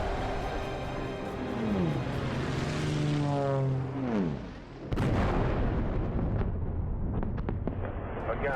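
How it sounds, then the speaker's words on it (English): A loud whining, descending drone sweeps down and ends in a heavy blast, followed by rumbling booms and scattered cracks, like explosions overhead during World War II bombing attacks. "Again, those were explosions overhead."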